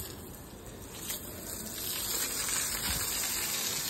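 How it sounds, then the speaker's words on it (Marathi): Water jet from a hose under strong pressure at a home courtyard, a steady hissing gush that builds louder partway through and holds, fairly close with no talk. "हे आता पाणी मारून जाम प्रेशर आहे पाण्याला"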